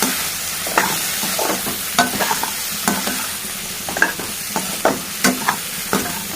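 Potato garlic fried rice made from leftover rice, with chili powder and coriander powder just added, is stirred in a hot pan: repeated close scraping strokes of a spoon over a soft, steady sizzle, with no talking.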